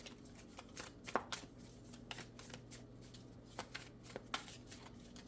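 Tarot cards being shuffled, a quiet rapid series of soft riffling and flicking bursts with irregular rhythm, faint and close, without talking.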